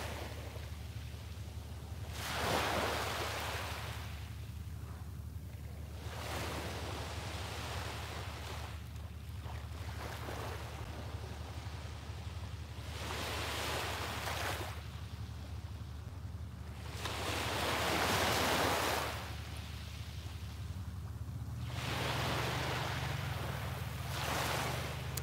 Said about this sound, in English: soak in the sound of the waves